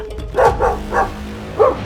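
A dog barks four times, short sharp woofs with uneven gaps, fairly close.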